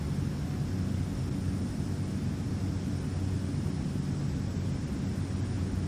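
Pratt & Whitney turboprop engines on a Dash 8 Q400 in the X-Plane 11 flight simulator, flying from Innsbruck to Prague, give a steady, loud broadband drone with a low hum throughout and no talking.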